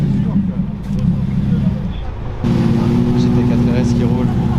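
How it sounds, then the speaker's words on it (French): A Porsche GT4 RS at a mountain supercar event in Chamrousse, its engine a loud low drone that dips briefly and then surges back stronger and close, with people talking nearby. "GT4 RS qui roule."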